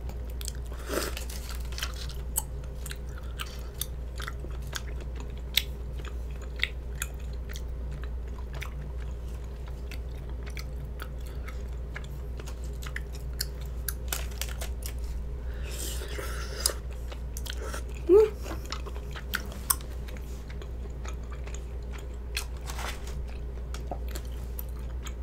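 Close, quiet chewing and biting of a stretchy cheese rice cake during a mukbang, soft repeated wet crunches and squishes scattered over a low steady background hum.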